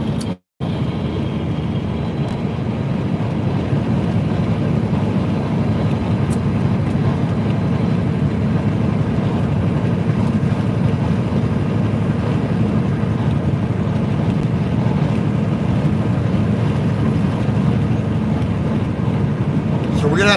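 Heavy truck engine laboring up a hill from inside the cab, a steady loud low rumble and drone that holds for the whole stretch after a brief cutout at the start, with wind-like noise over it.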